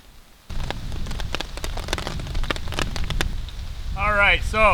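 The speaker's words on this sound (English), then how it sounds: "it is raining right now" Steady rain patters on a tarp and hammock campsite, a dense close hiss of drops that starts abruptly and continues throughout, with a brief voiced sound near the end.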